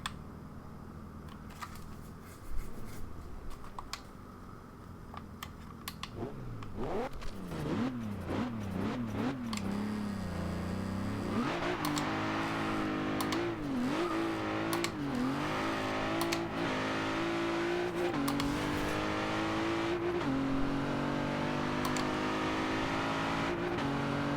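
Engine of a 2014 Maserati Ghibli S in Forza Horizon 2 on Xbox One, idling and then revving hard through rising, falling gear sweeps into a sustained loud drone, with no talk.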